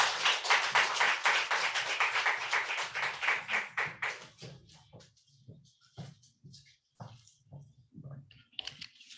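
An audience at a Los Angeles book launch applauds a musical act, dense clapping starting full and close, then thinning into scattered individual claps that fade out.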